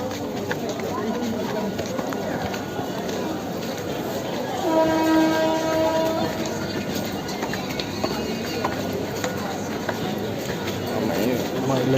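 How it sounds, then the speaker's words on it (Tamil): A train at Mambalam railway station on a busy post-Pongal day, its rumble and rail clatter rolling steadily under crowd noise and chatter, with a sustained tonal horn blast midway. "இப்போ ஒரு ட்ரெயின் வந்து போயிருக்கு, தெரியுதா?"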